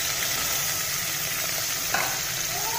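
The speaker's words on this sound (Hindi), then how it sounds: "प्याजों को हल्का फ्राई करना है" Onions frying in hot oil for a potato and egg curry, a steady close sizzle with light stirring and a brief scrape partway through, no voices.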